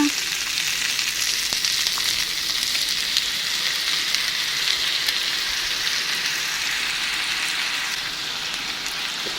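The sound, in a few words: stir-frying tempeh with sweet soy sauce poured in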